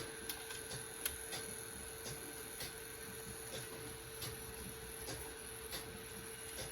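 A vintage Phonotrix 88 portable cassette player under repair running in play mode, a steady mechanical whir with high tonal hum and regular faint ticking, close and continuous.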